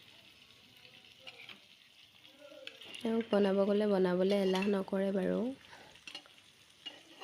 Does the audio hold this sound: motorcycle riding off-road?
no